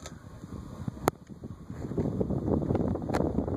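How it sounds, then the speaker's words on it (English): A Casablanca Nassau 48-inch ceiling fan running on high gives a soft, whooshing rush of moving air, growing steadier and slightly louder, with a couple of faint clicks and no voices. "I don't get any bearing noise at all. I get wind noise."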